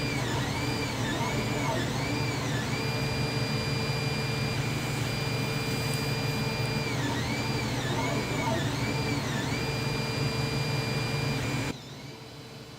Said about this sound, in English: Then it was off to the 3D printer.